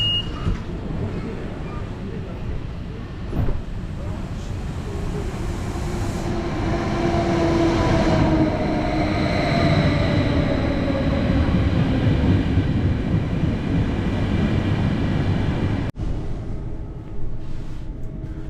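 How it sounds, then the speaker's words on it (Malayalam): A train rumbles in loudly and steadily, a deep rolling roar with rising metallic squeals as it slows, ending in a sharp clunk. "നമ്മുടെ ട്രെയിൻ വരുന്നുണ്ട് കേട്ടോ"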